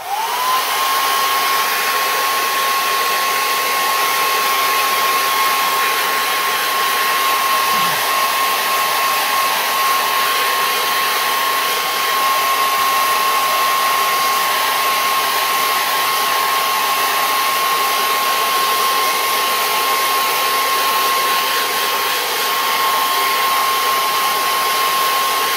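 Hair dryer drying wet Primo kiln wash on kiln shelves: a loud, steady blowing whine with a constant pitched hum runs unbroken and close throughout, with no talk.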